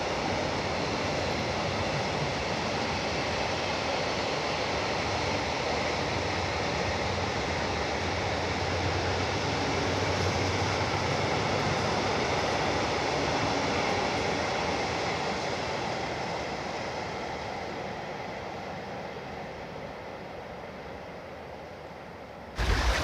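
A train passes along a railway line beside a canal, producing a long, steady rushing roar of wheels on rails that stays loud for most of the time before slowly fading.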